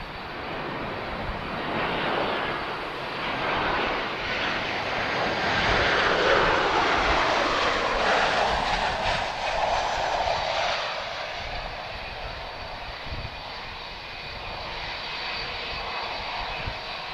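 Ryanair Boeing 737 NG landing at Lisbon Airport in gusty wind, a broad jet roar swelling to a peak mid-clip then easing into a steady rumble, heard from a distance.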